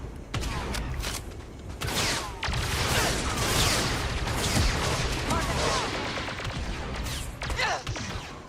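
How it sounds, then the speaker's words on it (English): Gunfire from the Star Wars Genesis video game crackles in dense, overlapping bursts, with sharp reports and mechanical clanks layered over a steady rumble of battle noise. "Where's all the shooting coming from?"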